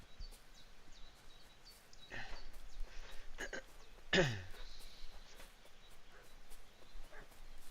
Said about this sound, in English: Oh god, the dog's barking.